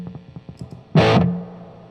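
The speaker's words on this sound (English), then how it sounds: "that's with the reverb on" Electric guitar through a Marshall JCM800 amplifier with reverb engaged: a few soft picked notes, then one loud distorted chord strike that rings and decays into a lingering reverb tail, no talking.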